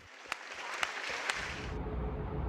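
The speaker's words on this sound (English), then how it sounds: "The surprising meeting ended in much applause" Students at a meeting with the Pope, Catholic and Lutheran, break into steady applause, a dense, fairly faint patter of clapping with a few sharper individual claps standing out early on.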